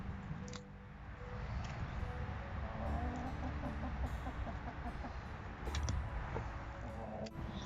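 A garden chicken clucks in short, irregular bursts over a rustling, noisy background, moderately close, with no clear talking.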